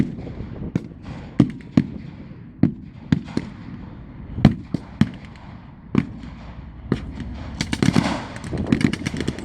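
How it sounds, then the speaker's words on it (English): A British 6-pounder gun is fired at a military re-enactment battle, with sharp bangs and cracks of blank fire scattered across the field, some near and loud, others fainter, ending in a burst of rapid shots. "a British 6-pounder is firing on the German Stuck, hoping to take it out and halt its progress. It fires again and again."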